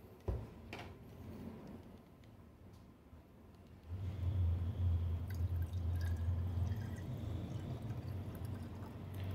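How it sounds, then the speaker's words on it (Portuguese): Water poured into a glass cylinder: after a few quiet seconds a steady, full pouring rush with a low rumble starts and continues to the end, close by, with no talk. "E agora eu vou colocar água e vamos ver a diferença"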